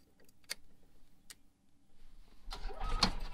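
An EZGO/Cushman golf cart engine starting after repairs: two sharp clicks, a short pause, then the engine cranks and catches into a rising, rough running rumble close by.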